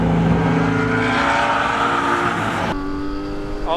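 A Porsche GT car's engine drives hard on a race track, held in a long third gear: a loud, steady high-revving drone that climbs in pitch, then a brief break and a slightly lower sustained tone.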